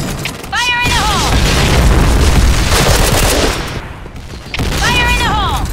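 Heavy continuous gunfire and a booming blast from a grenade in the shooter game Point Blank, loud and dense, with shouted voices at the start and end.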